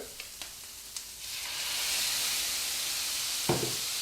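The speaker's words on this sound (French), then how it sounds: "on va rajouter un petit peu d'eau de cuisson des pâtes" Pasta cooking water poured into a hot pan makes a steady broadband sizzle and hiss that swells and holds for a few seconds, with a few light clinks before it and a sharper knock near the end.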